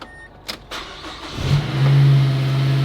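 A modified Mazda Speed 3 with a turbo and a large intake cranks after a couple of clicks, catches and settles into a loud, close, steady idle; no one speaks.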